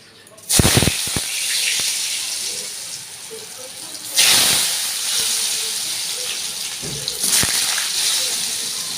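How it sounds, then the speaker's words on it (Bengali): Pieces of pointed gourd hit hot oil in a home kitchen, three loud bursts of hissing sizzle a few seconds apart, each settling into a softer steady crackle. "তেলটা গরম হয়ে গেছে তো পটলটা ভাজবো"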